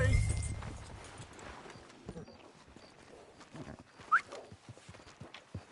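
A horse's hooves clip-clop at a walk in the Red Dead Redemption 2 video game, a soft, uneven run of footfalls set back in a quiet mix with one brief sharper knock.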